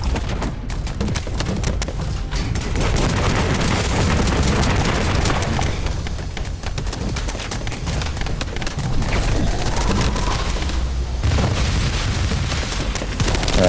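Rapid gunfire and booming blasts fill a firefight in The First Descendant, dense and continuous throughout, with constant loud bursts layered over game ambience and no talk.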